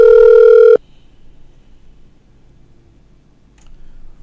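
Telephone ringing with a loud steady electronic tone that cuts off abruptly, followed by near silence and a faint click.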